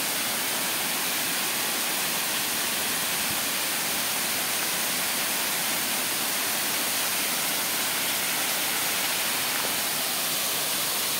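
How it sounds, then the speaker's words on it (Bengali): Kaijoda Falls in Keonjhar, Odisha, heard from right beneath the falling water. It makes a dense, constant roar with no pauses and no voices. "আমরা একদম ঝর্ণার নিচে চলে এসেছি"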